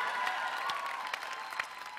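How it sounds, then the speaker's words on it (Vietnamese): A live dance-competition audience applauds contestant Hồng Nhung, dense hand-clapping with a few sharper claps standing out, sustained and fairly loud throughout, no talking on top. "Hãy dành một tràng pháo tay nữa cho Hồng Nhung thưa quý vị."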